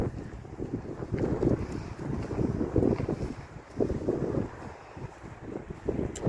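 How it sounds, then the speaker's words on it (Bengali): Strong gusting wind outdoors on a windy day in a London street, buffeting the microphone in rising and falling surges, with a low rumble underneath and no talk. "কি হাওয়া বাইরে!"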